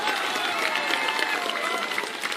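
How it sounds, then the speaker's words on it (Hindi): A crowd at a Prashant Kishor public rally in Govindpur, Nawada district, Bihar, keeps up a continuous, even burst of applause, with many hands clapping together at a moderate distance. "बजा लो ताली जोर से।"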